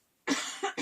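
A single person coughs close up, a sharp harsh burst followed by two quicker coughs in succession.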